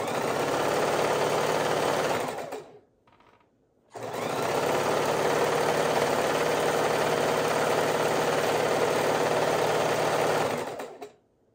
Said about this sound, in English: Keep on sewing.